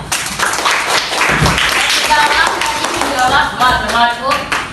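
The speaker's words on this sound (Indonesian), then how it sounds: "Beri aplaus dulu buat yang menjawab" Students in a classroom applaud a classmate's correct answer, with a short burst of close, dense clapping while voices talk over it.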